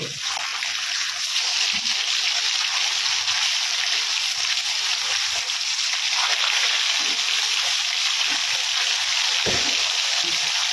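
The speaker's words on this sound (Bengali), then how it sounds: "তেল গরম হয়ে গেছে, মাছগুলো ভেজে নেব।" Pieces of rui fish fry in hot oil in a home kitchen, giving a loud, continuous close-up sizzle with occasional soft knocks and splatters throughout.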